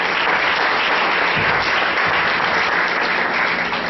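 A church congregation at a Bible school ceremony breaks into sustained, dense applause, loud and even throughout, with no voices rising above the clapping.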